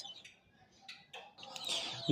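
Young Egyptian Fayoumi chicks give faint, scattered high peeps in a newly built shed, soft and intermittent, growing slightly busier toward the end.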